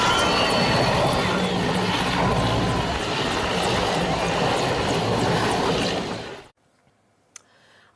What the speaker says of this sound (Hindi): वायुसेना का ये रेस्क्यू हेलीकॉप्टर बेंगलुरु के एयरफोर्स स्टेशन से आया था